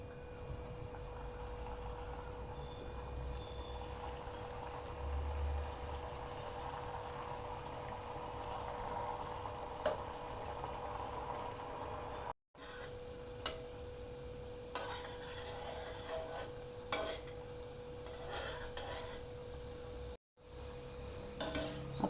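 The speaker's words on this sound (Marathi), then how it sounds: "हे आता तेल तापले, आपण हे गुलाबजाम तेलामध्ये सोडून घेऊया।" Sweet potato gulab jamun frying in hot oil kept at medium heat: a soft, continuous sizzle and bubbling hiss that stays steady and faint throughout, with no one speaking.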